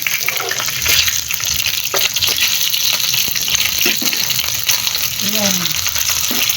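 Food frying in a pan, a continuous close sizzle with stirring taps and scrapes and a watery, splashy texture, while someone speaks briefly over it.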